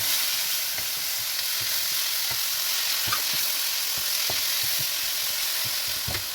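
Mint, coriander and tomato sauté in a pan for a chutney, giving a steady loud sizzle with periodic spatula scrapes and taps that recur every second or so, with no voices.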